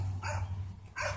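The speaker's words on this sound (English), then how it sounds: "now that the dogs are really going off" Dogs bark in two short bursts, faint and somewhat distant, over a steady low hum.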